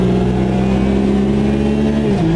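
Racing car engine in the VR racing game Automobilista revs loud and steady, a sustained high whine holding pitch with a slight dip near the end, no voices.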